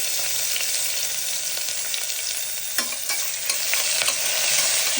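Onions, green chillies and cumin sizzle in ghee in a pan, a bright continuous hiss with scraping stirs breaking through now and then, close and steady, no voices.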